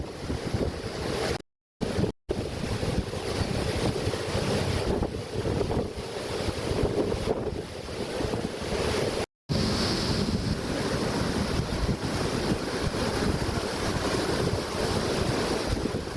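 Water released from Vaigai Dam in Theni district pours into canal 58 at 150 cubic feet per second, a steady roaring rush mixed with wind buffeting, with a few brief dropouts and no voices.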